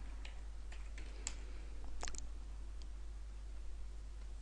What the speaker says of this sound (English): one word I often just type in is premium